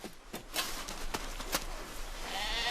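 Faint sheep bleats come through over wind and background noise outdoors in snowy wilderness, a few short calls at a distance.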